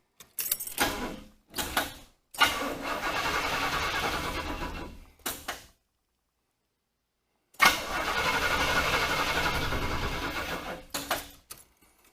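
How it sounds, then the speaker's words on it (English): A 2500-amp portable jump starter cranks a large 500 cubic inch car engine in two long, strained cranking bursts separated by silence, with a few short clicks and rattles before and between them. "It is cranking it as best as it can"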